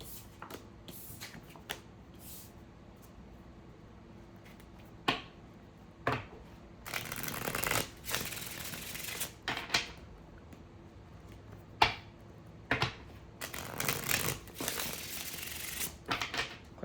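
Oracle cards being shuffled by hand, with quiet bursts of riffling and flicking card sounds that come in short irregular clusters against a near-silent room.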